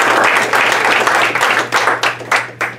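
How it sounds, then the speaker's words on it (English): Applause from a theater audience after a stage show, dense clapping that swells and fades in bursts, fairly loud and close, with a low steady hum underneath. "Give yourselves a big round of applause."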